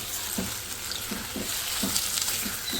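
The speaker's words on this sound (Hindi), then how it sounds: "अभी हमने चिकन को इस प्याज और लहसुन के साथ ही भूनना है" Chicken pieces frying with onion and garlic in a large pot for nihari, a steady loud sizzle with periodic scraping stirs about every half second, no voices.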